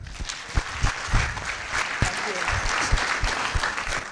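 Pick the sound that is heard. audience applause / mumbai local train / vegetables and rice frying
audience applause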